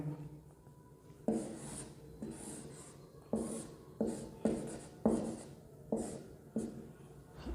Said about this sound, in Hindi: चलिए इन पॉइंट्स को भी लिख लेते हैं।